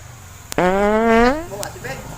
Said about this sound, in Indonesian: Lu kentut.